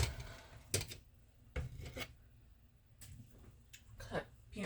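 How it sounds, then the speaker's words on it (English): A butter knife is scraped clean of peanut butter, giving several short raspy scrapes at close range with quiet gaps between them. "I'm going to scrape this butter knife off."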